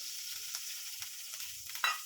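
An egg sandwich fries in oil in a pan, giving a low, steady sizzle with a few soft scrapes and one sharper clink near the end, all fairly quiet.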